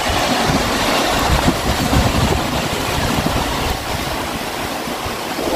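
Ocean waves washing against the Haeundae coast in Busan, by the Green Railway trail near Mipo, form a steady, loud, broadband rush with no break and no voices.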